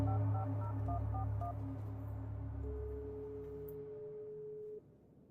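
A telephone being dialed in the video game Darkness Within, a quick series of keypad tones over a low hum, then a single steady tone sounding before the line cuts quiet.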